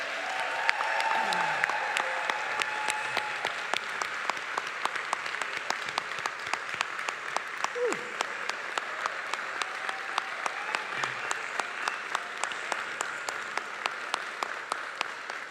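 Sustained applause from a large graduation audience fills the hall for over fifteen seconds, steady dense clapping that slowly thins, with a few faint voices underneath.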